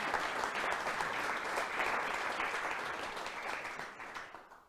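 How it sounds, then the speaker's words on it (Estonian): Audience at a hiking guides' gathering applauding, a dense sustained wash of many hands clapping at moderate distance, gradually tapering off toward the end. "Teeme ikka aplausi."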